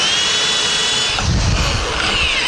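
A power drill boring holes for a door hinge whines steadily and loudly at close range, its pitch dipping briefly as the bit bites into the material midway through.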